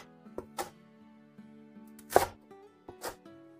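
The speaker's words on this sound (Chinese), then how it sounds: "切好之后，我们给它切成啊3到4厘米的小段儿。" A knife chops tender luffa vine into short pieces on a board. There are about four sharp, separate cuts spaced irregularly over soft background music.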